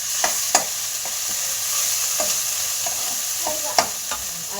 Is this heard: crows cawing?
no